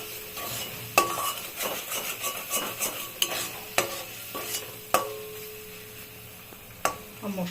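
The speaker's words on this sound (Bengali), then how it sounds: "যে মশলাটা কষিয়ে এরকম শুকনো হয়ে লেগে যাচ্ছে, এখন সমানে নেড়েই যাচ্ছে" Thick spice paste for Bengali doi potol being stirred and scraped in a pan as it dries and releases oil, a soft sizzle under repeated sharp utensil knocks and scrapes at irregular intervals.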